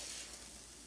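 Risotto rice toasting dry in a hot pan gives a steady, faint crackling sizzle, a continuous soft hiss with no voices.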